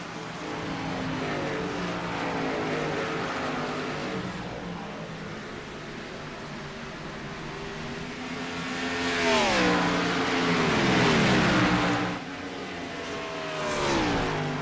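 Gen 6 Cup Series stock cars race around the Nashville track, a dense roar of engines with several cars sweeping past, their pitch swooping as they pass near the listener, loudest in the middle passes.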